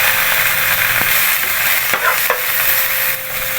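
Onion sautés with ginger and garlic in a pan, a loud close sizzle with a few sharp stirring scrapes and taps of a utensil against the pan, no voices.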